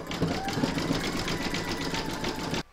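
An embroidery machine stitches round number 7 of an in-the-hoop stacked pumpkin with a rapid, even rattling hum close by, stopping abruptly just before the end.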